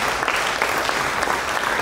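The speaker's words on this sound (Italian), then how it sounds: "Vi ringrazio dagli applausi" An audience at the close of a book talk by historian Emilio Gentile breaks into sustained, dense applause, loud and even throughout without any speech.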